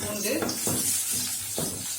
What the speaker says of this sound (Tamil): பூண்டு போட்டு நல்லா வதக்கணும்.